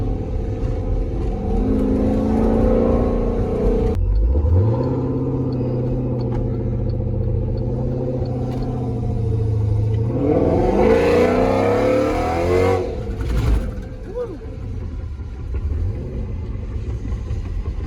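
Jeep engine fitted with a new cam, running with a lumpy, choppy idle that rises into a rev around the middle before settling back, loud and close.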